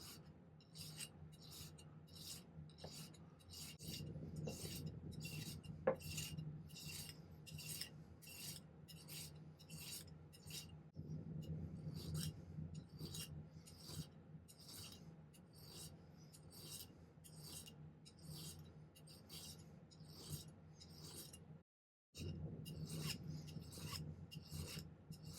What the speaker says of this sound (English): I'm going to try and file it a little thinner on the inside here.